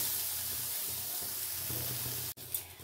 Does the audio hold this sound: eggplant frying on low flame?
yes